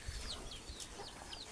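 Chicks hatched from a mother hen give faint, high, repeated cheeping peeps, quiet against a low background hum.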